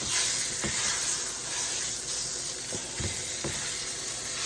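Pork chops with sage sizzle and fry steadily in pan drippings, a continuous close hiss with a few soft knocks from turning or stirring.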